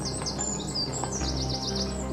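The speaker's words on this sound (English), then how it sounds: "Ooh, that bird's loud. Right in my ear." A bird chirps loudly and close in the I Am Fish video game, with repeated rising tweets and trills over a steady ambient game background.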